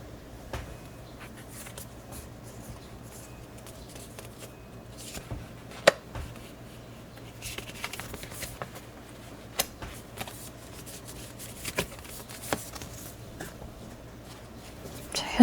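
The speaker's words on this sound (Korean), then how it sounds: "카드 오픈하겠습니다." Tarot cards are handled and laid open on a table, giving soft intermittent taps, slides and light rustles, quiet and sparse over a low background hum.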